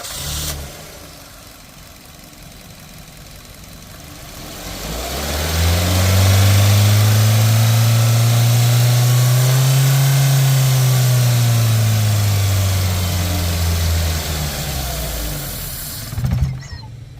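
A Maruti Suzuki Baleno with a pickup problem and acceleration drop, flagged with fault code P0420, idles, then its engine rises to a held, steady high rev for several seconds before easing back down, close and loud.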